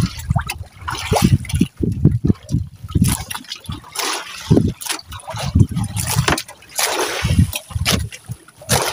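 Sea waves slosh and splash around a small boat in choppy water, with bursts of water noise coming and going while someone talks nearby over the sound.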